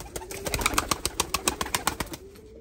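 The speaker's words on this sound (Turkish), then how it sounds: "Kanat sesleri falan çok güzel." Van pigeons flap their wings in a quick, even series of sharp claps at close range. The flapping fades out after about two seconds.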